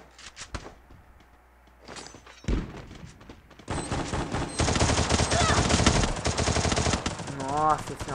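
Rapid bursts of automatic gunfire in the video game Free Fire crackle loudly, building into sustained volleys with thuds and a brief sweeping tone near the end.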